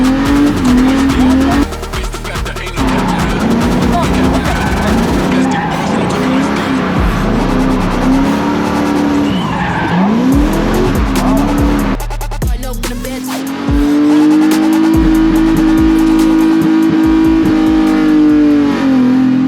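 A drift car slides with long, loud tire squeals and a revving engine that rises and falls throughout, with a brief break near the middle before the skid resumes.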